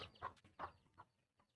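Chickens cluck softly a few times in quick succession, fairly faint and with nothing else around them.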